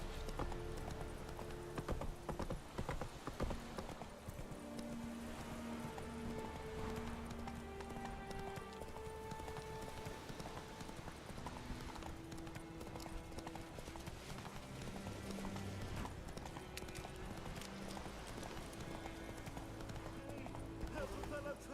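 Roach, Geralt's horse in The Witcher 3 video game, clip-clops along at a steady walking pace with occasional snorts, under in-game dialogue voices and background music.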